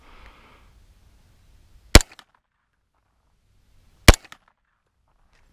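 Two sharp AR9 rifle shots ring out about two seconds apart on an outdoor range, each a loud crack followed by a brief metallic ping off steel targets, with quiet between them.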